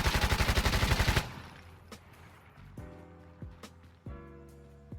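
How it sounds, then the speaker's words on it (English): A controlled full-auto burst from a Tavor 7 rifle in a video game rattles out loudly for just over a second, then a few sharp, scattered reports and clanks ring out more faintly. "Tavor 7 full auto 20 rounds controlled this time"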